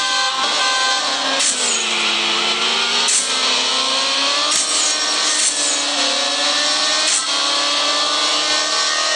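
SRT Viper engine in the CSR Racing mobile game, revving loudly and continuously with rising and falling pitch sweeps and gear-change dips, no talk over it.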